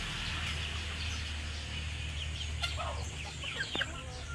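Roosters of the Darag breed cluck in a farm setting, a few short calls rising over steady low background noise, fairly near and moderately loud.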